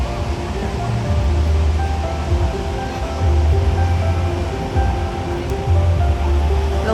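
Ocean waves wash in at low tide on the California coast, a rolling surf rumble that swells and recedes in repeated surges.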